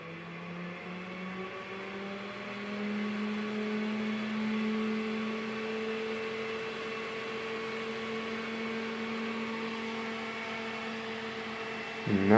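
An industrial 220-235 V AC fan runs steadily with a constant motor hum and airy whoosh, its tone rising slightly as it spins up, heard close and alone throughout.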